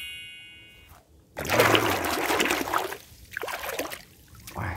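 Water pours and splashes into a basin for washing muddy toy animals. After a brief silence, a close, steady gush runs for a couple of seconds, then comes back in shorter splashing spurts.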